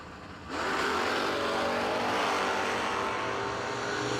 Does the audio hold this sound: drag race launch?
yes